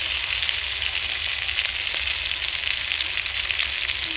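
Steady, close sizzle of a spice paste frying in a pan: ground ginger, cumin paste and dried chilli powder. The dense, even hiss runs unbroken for the whole stretch, with no talking.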